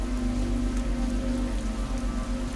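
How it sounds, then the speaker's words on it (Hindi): Steady rain pours down in a Hindi horror story scene, a dense continuous hiss of drops with a low rumbling undertone, loud and even throughout with no voices. "अचानक बारिश की आवाज"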